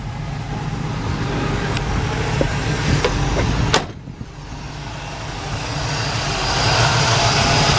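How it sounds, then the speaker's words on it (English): A small block V8 in a 1967 Chevrolet Camaro coupe idles steadily with a low, even rumble, a sharp click partway through, and the hum continuing smoothly. "clean running little small block"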